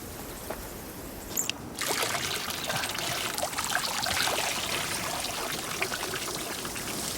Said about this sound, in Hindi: इतना ही पानी आता है?